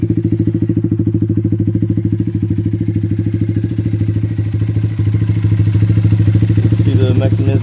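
A Honda Grom motorcycle nicknamed GromZilla, fitted with a Power Commander 5 and 2-step launch control, runs with a loud, close, steady pulsing thrum that grows slightly heavier partway through.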